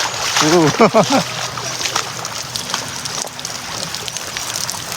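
Cold water from an outdoor shower at a farm campsite splashes and sloshes steadily and close, with people talking and exclaiming over it near the start.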